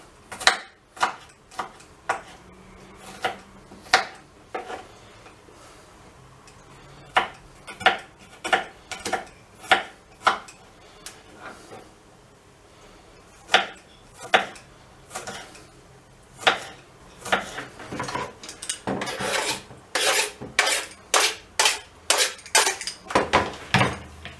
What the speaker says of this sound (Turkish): İki büyük diş sarımsağı. Yine incecik doğruyoruz.